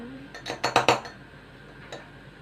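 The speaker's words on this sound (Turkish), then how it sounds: "Öncelikle cezvemizin içine şeker koyacağız. Bir tatlı kaşığı." A spoon clinks against a metal Turkish coffee pot in a quick burst of four or five bright taps while sugar goes in, then one lighter clink follows after a short pause.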